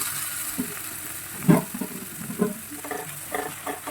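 Tomato and soya chunks sautéing in a pan give a soft, steady sizzle, with a few louder stirring scrapes and clinks recurring at irregular moments over the frying hiss.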